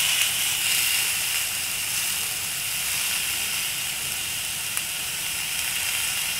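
Fish seasoned with a little salt grilling in a Teflon pan, giving a steady, even hiss and sizzle that carries on without a break. No one speaks over it.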